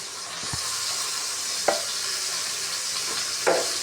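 Chicken sautés in a pan for sinigang with a steady, even sizzle, broken by a few soft clinks of a utensil against the pan; no one speaks.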